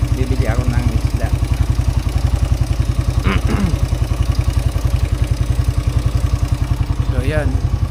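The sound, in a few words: motorcycle engine started and running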